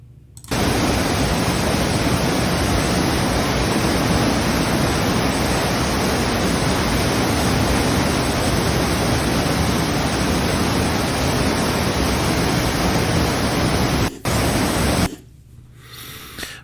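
Dry Falls, a waterfall in North Carolina with icicles hanging from its ledge, sends up a loud, steady roar of falling water that runs unbroken with no voices, then cuts off abruptly near the end.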